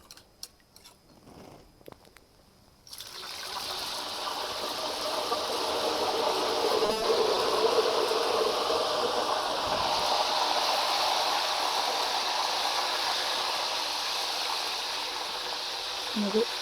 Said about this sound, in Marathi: हे पाणी तेलामध्ये टाकणार आहोत.